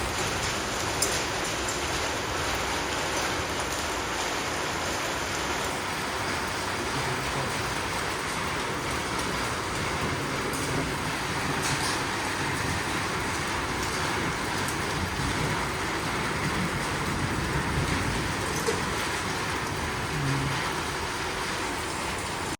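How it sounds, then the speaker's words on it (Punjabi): Heavy rain mixed with falling hail pours down steadily in a dense, continuous wash of noise, with scattered sharper impacts through it and a faint steady high whine in the background, no voices. "ਨਵੇਂ ਗੜੇ ਪੈਣ ਲੱਗੇ"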